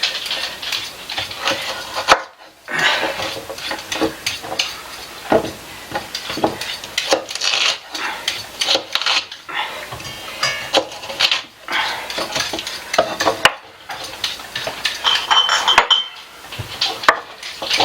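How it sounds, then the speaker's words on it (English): A knife cuts large carrots on a board, producing uneven bursts of chopping, scraping and clinking with short pauses between strokes and no talking. "I'm just going to show you how I'm cutting these."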